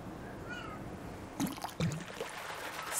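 An upset indoor house cat yells, first with a faint drawn-out meow and then with a couple of louder, sharper cries close by, against a quiet room background.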